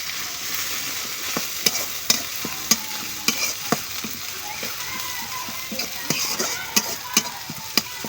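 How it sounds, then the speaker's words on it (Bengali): Spices being sautéed in a pan in a village kitchen produce a soft, steady sizzle broken by repeated sharp scrapes and taps of stirring at an uneven rhythm, with a voice talking quietly underneath. "তো মশলাগুলো আমি একটু কষিয়ে নিচ্ছিলাম"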